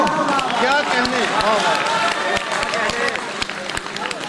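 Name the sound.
audience applause at a poetry mushaira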